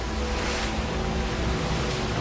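Ocean waves wash icebergs ashore on a glacier-fed beach, a steady broadband surf roar with continuous rushing water and some wind buffeting, close and loud throughout with no voices.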